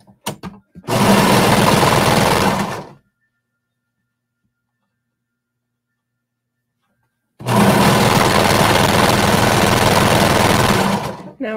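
A sewing machine runs steadily as it stitches around the curve of a bralette, two loud sustained bursts separated by a few seconds of silence.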